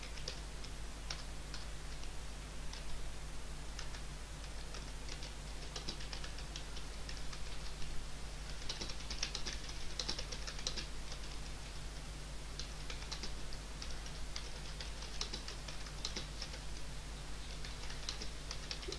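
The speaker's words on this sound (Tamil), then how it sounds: "நீங்கள் என்னென்ன நம்ம டைப் பண்ணணுமோ கரெக்டாக வந்து டைப் பண்ணிட்டு வந்துடுங்க" Typing on a computer keyboard, likely while preparing a resume, heard as a steady patter of light, quick key clicks close up over a constant low electrical hum, with no talking.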